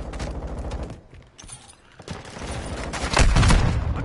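Gunfire in a shooter video game, dense rapid bursts of shots and booms, loud and close, swelling to a heavier barrage near the end.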